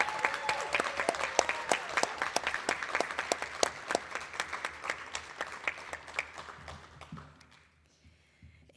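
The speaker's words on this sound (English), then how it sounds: "Let's give all of our inductees a final round of applause." A final round of applause for inductees at a first-generation graduate ceremony: a crowd claps in quick, distinct individual strikes that thin out and fade away, leaving near silence at the end.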